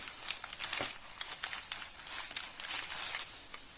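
A plastic packet of assorted sweets and truffles crinkles close by, with continuous rustling and crackling handling through the whole stretch and no talk.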